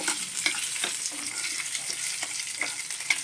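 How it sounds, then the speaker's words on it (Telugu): Dried red chillies and cumin sizzle steadily in hot oil over a low flame for a Telugu perugu vada tempering, a soft continuous crackle with faint stirring clicks close by and no voices. "చూడండి ఈ పోపులో ఎండుమిర్చి, జీలకర్ర, ఇదిగోండి ఇలాగా పోపులు ఇలా వేపుకోవాలి చిన్న ఫ్లేమ్లో"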